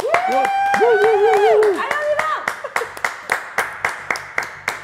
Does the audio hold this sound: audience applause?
yes